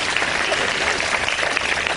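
Audience applause fills a hall at a talk, a dense, steady clatter of many clapping hands held close and loud throughout.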